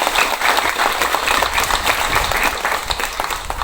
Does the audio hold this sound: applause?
yes